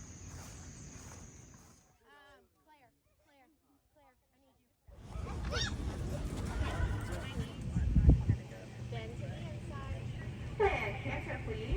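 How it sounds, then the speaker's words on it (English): Horses at a horse show: a whinny and hoof clip-clop, with a quiet pause before an arena crowd with voices, hooves and movement, and people talking throughout. "I'm going to leave you today with the beautiful horses at the horse show."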